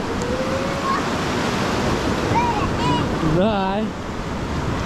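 Sea waves break and splash over flat rock slabs on a wild beach at Blue Bay near Gelendzhik: a steady, loud, close surf roar with a bigger surge midway, while voices and a child's call sound over it.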